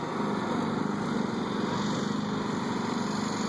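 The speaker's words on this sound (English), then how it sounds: "Hot lawnmower racing action." Small lawnmower engines race at a Fourth of July event in Wellington, Colorado, with a loud, continuous high-revving buzz that holds steady and close throughout.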